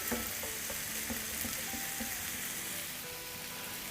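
Chicken mince sizzles and fries in a pan, a steady quiet hiss with occasional stirring scrapes and light clinks.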